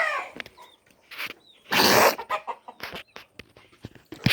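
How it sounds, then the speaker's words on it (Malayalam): A black Kadaknath chicken clucks close by in short, irregular bursts, with one louder, harsher squawk partway through and no talking. "ഇതാണ് കേട്ടോ പഹനാണ് എൻ്റെ കരിങ്കോഴി."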